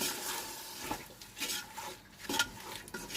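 Lemon juice is stirred into biryani masala in a pan, giving soft, quiet scraping and shuffling strokes with a light wet sizzle, in a few irregular bursts.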